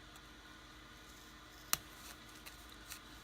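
Sharp scissors snipping fabric close to machine embroidery, a single crisp cut followed by a few faint small snips in a quiet room.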